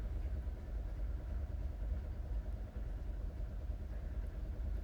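Sewing machine running steadily as it stitches lace trim along the slit of a kurti, a continuous low mechanical whir with a dense motor hum, loud and close, no talking.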